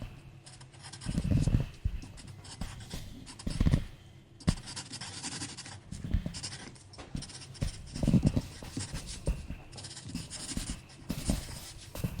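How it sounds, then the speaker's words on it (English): Pen writing on paper, close scratchy strokes in short bursts separated by brief pauses, fairly quiet and without talk. "I'm gonna write down my favorite color as well."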